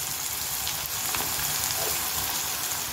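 Vegetables fry in oil for pasta, producing an even, dense sizzle with faint stirring ticks and no voices throughout.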